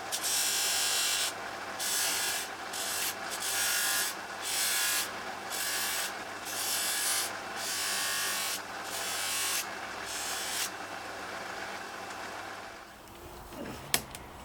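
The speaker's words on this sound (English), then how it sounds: "For this we're going to use the Axminster AC150BB buffing machine." Axminster AC150BB buffing machine polishing a brass ferrule: a steady whirring motor hum with a rhythmic series of abrasive, rubbing bursts as the part is pressed against the wheel, then a short knock near the end.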